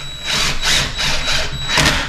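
A power drill whines in four or five short bursts as it drives 1¼ inch screws into a wood cleat on a farmhouse-style end table, loud and close with brief pauses between pulls.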